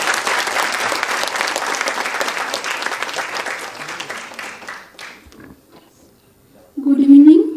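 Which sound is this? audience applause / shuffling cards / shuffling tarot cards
audience applause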